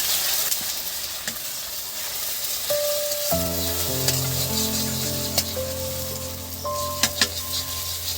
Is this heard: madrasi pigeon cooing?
no